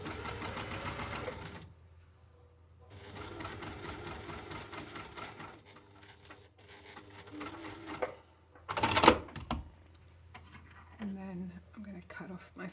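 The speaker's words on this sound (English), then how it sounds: "I'm just going to keep sewing slightly beyond that folded over edge that we started with." A sewing machine stitches bias binding onto a dress neckline in close, steady bursts, pausing between runs, with a sharper clatter near the end.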